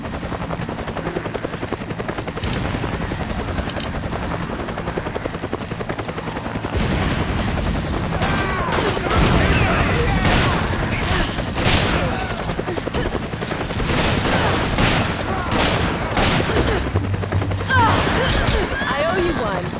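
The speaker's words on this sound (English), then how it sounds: "Gunfire." Bursts of rapid gunfire crackle over a steady helicopter-like drone in Resident Evil 5, with dense shots through the middle and a few sharp cracks near the end.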